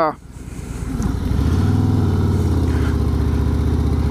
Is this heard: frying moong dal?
no